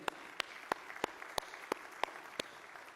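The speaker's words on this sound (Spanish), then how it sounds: "Dale un fuerte aplauso a Él." Faint, evenly spaced claps sound about three times a second, like a few people clapping in rhythm in a large room.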